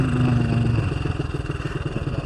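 A homemade DOHC cylinder head fitted to an FIM152 engine runs close by with a steady mechanical drone that settles into a rapid, even pulsing beat, heard alone.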